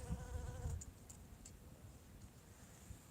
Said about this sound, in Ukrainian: пчолки носять нектар